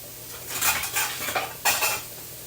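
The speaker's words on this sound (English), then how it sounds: "And let me get a lid." Mushrooms cooking in butter and oil in a pan get covered with a lid, giving a few close metallic clinks and clatters of cookware with a faint sizzle underneath.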